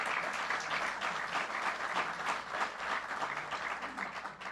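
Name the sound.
audience applause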